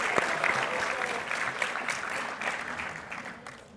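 Banquet audience applauding board members: a roomful of people clapping steadily and densely, the sound fading slightly toward the end of a few seconds.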